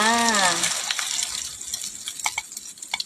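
Eggs hit hot vegetable oil in a pan for a Thai omelette, khai jiao, giving a loud hissing sizzle that fades into steady crackling with scattered pops.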